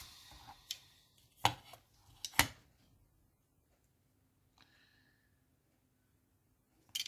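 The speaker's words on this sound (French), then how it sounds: "Et là, notre ami le cutter, on vient couper" A utility knife slices through card in a few short, sharp scraping strokes, close and quiet, followed by a softer cut and a near-silent stretch.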